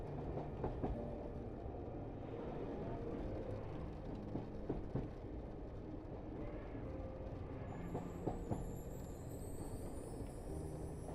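A train rolls steadily along the rails with a continuous low rumble and faint rhythmic clatter, heard from inside a carriage, with a thin high whine near the end.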